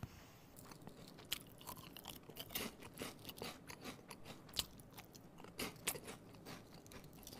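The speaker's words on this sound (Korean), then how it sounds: "저는 또 콘소메 맛으로 먹어보도록 하겠습니다" Quiet, close crunching and chewing of a crisp consommé-flavored Daecheon seaweed snack, with scattered sharp bites and crackles over a soft background and no voices.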